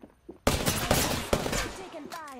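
Rapid bursts of automatic gunfire in an online battle royale shooter match, loud and close, firing in dense volleys with brief pauses.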